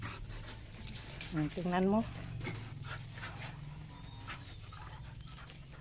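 A black dog pants and whimpers briefly up close, with a low steady hum underneath and a voice speaking softly.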